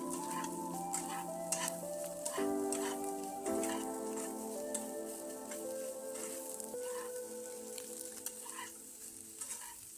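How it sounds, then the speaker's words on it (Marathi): Soybean chunks sizzle and fry steadily in hot oil while being stirred and sautéed for a Marathi soybean masala, with close, continuous crackling, frequent scraping clinks from the spoon, and no talk. "सोयाबीन परतून घ्यायची आहे तेलामध्ये"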